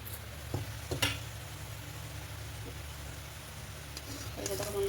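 Roti frying in hot oil in a pan while home-cooking dal roti, a steady low sizzle running throughout with a few brief clinks and scrapes, and a faint background voice.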